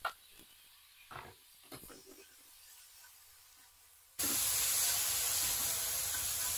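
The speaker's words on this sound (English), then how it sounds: "You can hear it sizzling, it's all happy." After a few quiet knocks, a loud, steady sizzle suddenly starts, a bright crackling hiss of peppers and onions frying in a hot pan inside an RV.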